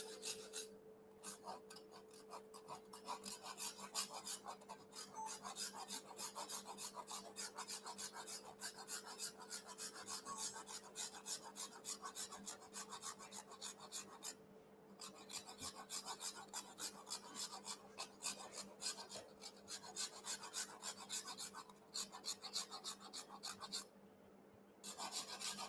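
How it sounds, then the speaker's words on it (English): A gingerbread house wall is steadily scraped to straighten it, giving a continuous close rasping, filing sound with brief pauses and no talking. "So I'm going to continue to scrape it"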